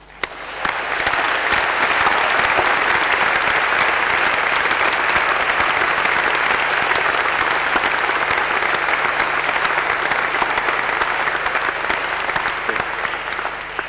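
Audience applause fills a graduation ceremony hall at a conservatorium of music, welcoming a graduate's parents; steady, dense clapping from a large crowd, continuous and loud throughout.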